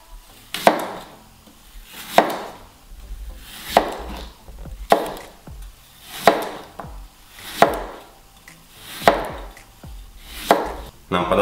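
A knife cuts apples into wedges in a steady rhythm, eight or so crisp chops landing on a board, close and clear with no talking.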